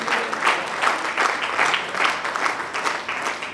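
Applause at an awards night event in Lucknow, a steady crowd clapping in pulsing waves throughout, fairly loud and continuous with no talk over it.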